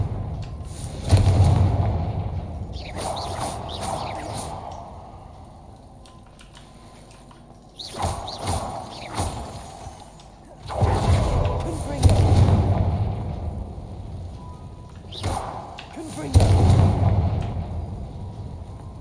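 Confringo fire-blast spell explosions in the Hogwarts Legacy video game burst out as several loud booming blasts with crackling tails, spaced a few seconds apart over a low ambient background.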